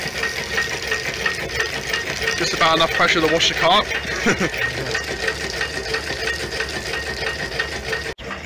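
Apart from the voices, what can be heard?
Stirling engine running and driving a water pump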